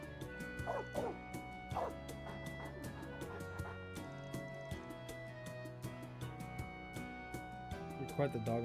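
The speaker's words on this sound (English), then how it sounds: "Aaron playing with the dog." A dog in the video game Kai no Kiseki barks and yips in several short bursts over steady game music, with voices present.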